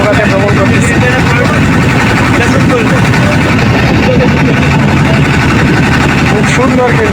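A motorboat engine drones on the Yamuna river as boats travel side by side, a loud, continuous rumbling hum close by, mixed with wind and water noise.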